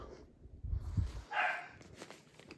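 Household dogs bark indoors in a couple of short, faint bursts, with a higher yelp after them, in a quiet room.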